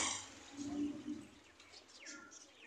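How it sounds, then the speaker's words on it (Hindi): Mixed birds including pigeons, chickens, black partridges and parrots call together, with a low cooing murmur and scattered higher chirps and tweets, moderately faint and close by. "ये दोस्तों मुख्तलिफ़ किस्म के परिंदे हैं"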